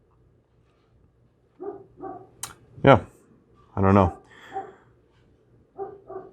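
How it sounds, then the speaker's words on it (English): A pet dog barks indoors during an art-supply test of solvent-free gel, giving a few sharp, loud barks between quieter sounds while a person talks nearby. "And that's my dog barking"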